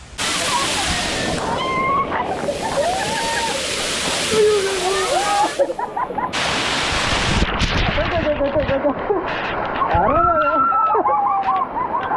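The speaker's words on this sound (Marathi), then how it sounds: "तिथं बी मोठा धबधबा आहे" A large waterfall at Malshej Ghat roars continuously and loudly, with people's voices calling and chattering over the rushing water.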